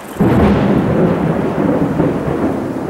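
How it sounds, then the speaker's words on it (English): Loud, close thunder from a thunderstorm rolls in as a sharp onset, then rumbles on steadily and heavily for a few seconds, with a faint hiss of rain beneath it. "I just got thunder and lightning"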